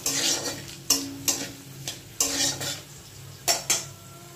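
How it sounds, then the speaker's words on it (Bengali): Potatoes and a ground spice masala turning in hot oil in a pan, heard as sharp spoon scrapes and clinks against the metal at uneven intervals, with a faint sizzle underneath and no talk. "মশলাটাকে আলুটাকে আমি ভালো করে কিন্তু ভেজে নেব।"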